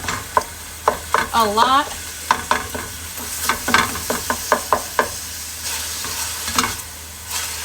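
Ground turkey is stirred and broken up in a sizzling frying pan, giving repeated close scraping and knocking strokes over a constant hiss, with a voice speaking briefly.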